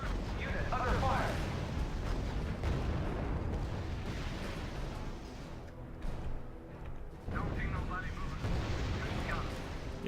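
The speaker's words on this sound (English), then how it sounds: "That last RPG shot was not necessary." A rocket-propelled grenade shot and gunfire in the strategy video game R.U.S.E., with dense, continuous booming blasts and rumbling battle noise, loud and heavy throughout, under faint radio-style voices.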